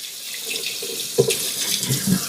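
Tap water pours steadily into a container with a continuous hiss and splash, with a couple of light knocks near the end and no talking.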